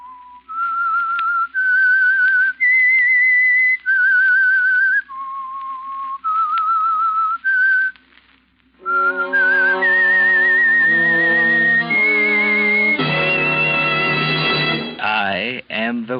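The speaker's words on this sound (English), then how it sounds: "That whistle is your signal for the Signal Oil Program" The whistled theme of the old-time radio mystery The Whistler rises and falls in distinct sustained notes, then a brighter orchestral passage carries the same melody, loud and clear.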